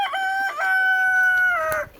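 A single rooster crows close by, one long drawn-out cock-a-doodle-doo that fades at the end.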